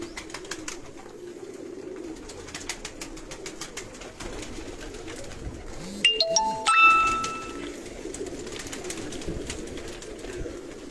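Red-eyed pigeons coo softly and intermittently against a faint background of clicks, with a brief bell-like ding around the middle.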